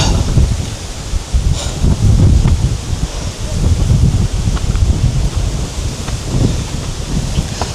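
Strong wind buffets the microphone in steady gusts on a suspension bridge, a loud low roar with rustling throughout.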